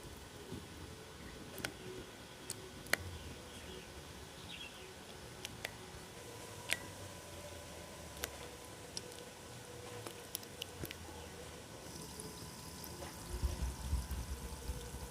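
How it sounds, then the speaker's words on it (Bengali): Madan bhaja sweets frying in hot oil over medium heat, a faint, steady bubbling patter with scattered small pops and crackles. "এবার আমি মদনগুলো এই তেলের মধ্যে দিয়ে দেব"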